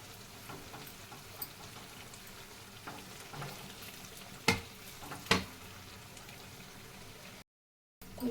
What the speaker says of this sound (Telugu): కొంచెంసేపు మనము జస్ట్ ఇలాగా చేప ముక్కలేసి ఆయిల్లో కొంచెంసేపు ఇలా ఉంచితే ఆ మసాలా ఆయిల్ అంత చక్కగా అవ్విద్దండి